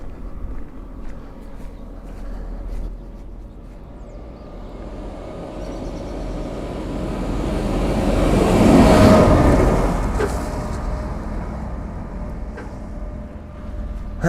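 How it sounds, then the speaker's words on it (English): A tractor passes on a rural road, a low engine rumble building steadily from a distance to its loudest close by, then fading away again. "It's a tractor"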